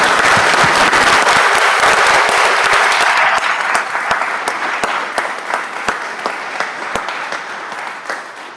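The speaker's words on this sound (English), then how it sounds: "what do you say about a round of applause for the men and women of the Orland Park Police Department?" An audience at a Village of Orland Park committee meeting applauds the men and women of the Orland Park Police Department, a loud, dense round of clapping that thins into scattered individual claps toward the end.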